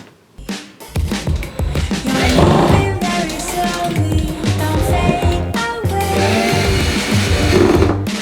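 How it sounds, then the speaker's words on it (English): Long screws are driven into a wall shelf with a power drill or driver, a close, loud whirring motor running in long bursts with brief pauses between them. "But let's screw in the long screws."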